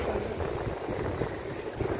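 A sea breeze at Dona Paula beach in Goa roars in a steady, dense rush against the microphone, with a faint low churn of the sea beneath and no pauses.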